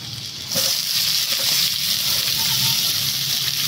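Chopped onion drops into hot oil already holding dried red chili, bay leaf and minced garlic, and a loud, even sizzle surges in about half a second in and holds steady throughout.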